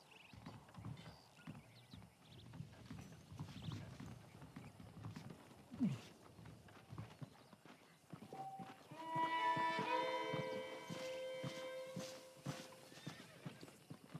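Steady clip-clop of horse hooves at a walking pace in Red Dead Redemption, joined midway by a whinny and brighter tonal game music over a low ambient bed.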